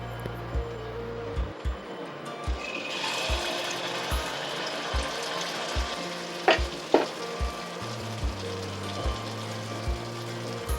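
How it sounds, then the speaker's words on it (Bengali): Malpua made from wheat flour and jaggery batter fries in oil and ghee, a continuous close sizzle with rhythmic low knocks and scrapes of stirring, plus two sharp clinks midway. "মালপোয়াটা লাল লাল করে ভেজে নেব"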